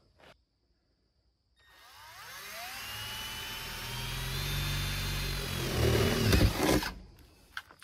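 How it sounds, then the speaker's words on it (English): A power drill whirs up and runs steadily at close range for several seconds, its pitch climbing as it drills a hole in a van roof, then cuts off abruptly. "First thing we're going to do is drill a hole."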